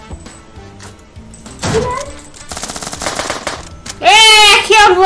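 Gunfire in the co-op shooter game SOS OPS, a rapid automatic burst that rattles over game sounds and then a louder stretch of fire near the end, with voices talking over it.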